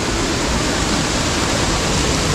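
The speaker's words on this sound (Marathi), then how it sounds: "हे बघा इथून पाणी बाहेर येते" Water flows out of a channel cut into laterite rock at a Konkan cave temple, a steady, close, full rushing wash that continues without break and with no voices.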